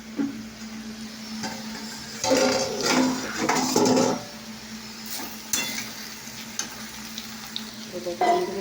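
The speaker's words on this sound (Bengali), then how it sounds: "দেখতে পাচ্ছ এখন আলু ভাজা হচ্ছে" Potatoes fry with a crackling sizzle while a utensil clatters and scrapes against the pan in irregular bursts.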